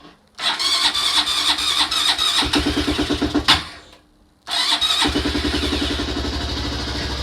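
Honda Grom motorcycle being cold started, the starter whirring in rapid pulses before a short gap, then the small engine catching and settling into a steady, close, loud idle.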